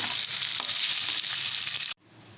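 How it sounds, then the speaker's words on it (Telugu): Boiled chicken pieces fry with masala in oil over medium flame, a close, steady sizzle with faint stirring clicks that cuts off abruptly near the end, with no voices. "ఉడికించిన చికెన్ కూడా ఆయిల్లో వేసుకొని ఫ్రై చేసుకుంటాం"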